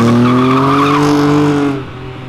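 Car tires squealing as the driver's foot slips off the clutch at a car event exit, a loud sustained tonal screech over engine roar that cuts off abruptly near the end.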